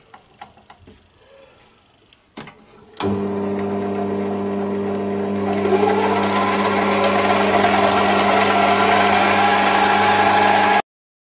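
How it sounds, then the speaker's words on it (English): A mini lathe starts after a few soft knocks and runs in low gear with a loud, steady mechanical whine and hum. The tone brightens slightly midway, then stops abruptly. "Turn on the lathe, put it into a low gear"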